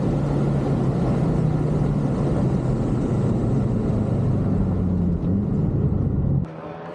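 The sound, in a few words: race car driving a fast lap at Atlanta Motorsports Park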